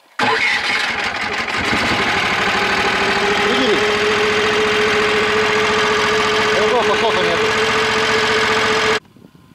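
A snowmobile engine runs loudly and continuously at a steady pitch, with slight revs partway through, then cuts off at the end.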